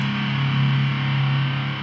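Distorted electric guitar tone through an impulse response emulating the amp used by a metal band, a steady sustained chord ringing loud and alone without pauses.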